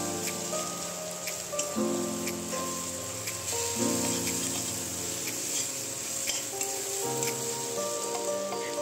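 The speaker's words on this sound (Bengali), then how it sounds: "জাস্ট এরকমভাবে ব্রাউন করে পেঁয়াজটাকে ভেজে নেব" Onions frying until brown for biryani keep up a continuous crackling sizzle with faint scattered pops, while steady tonal background music plays underneath.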